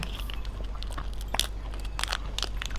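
Crunchy Kinder chocolate oat ball being chewed up close, a few crisp crackling bites and crunches scattered over about three seconds with no talking.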